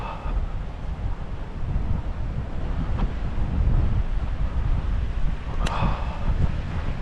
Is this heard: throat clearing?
no